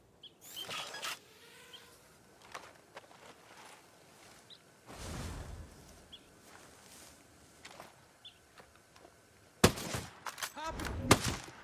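Sniper rifle fire in the Ghost Recon video game: a handful of sharp, separate gunshot cracks, the loudest near the end, spread through quiet in-game ambience with faint footsteps.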